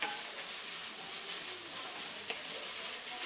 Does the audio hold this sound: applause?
no